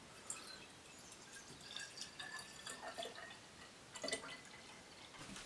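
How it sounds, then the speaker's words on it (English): Quinine solution is poured into a bottle in a lab setting, giving a faint, thin trickle with scattered small drips and splashes that swell briefly near the end. "I am going to pour the solution into a bottle"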